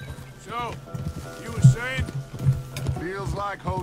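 Horse hooves clip-clopping in Red Dead Redemption 2, a soft rhythmic hoof beat running under loud game dialogue and voices.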